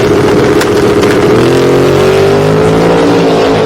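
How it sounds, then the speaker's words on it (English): At a Sick Week 2024 drag race, a supercharged Coyote-swapped 1979 Blazer pace car and an Isuzu pickup roar at full throttle, engines loud and steady as the pitch climbs. "In the supercharged Coyote Swap 79 pace car, lining up against the Isuzu pickup truck of Dustin Caudill."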